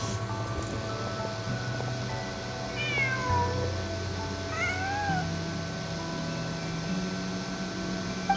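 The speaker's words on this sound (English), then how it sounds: "Just a cat." A cat in the Genshin Impact video game meows twice in quick succession, clear and fairly close, over a sustained background music drone.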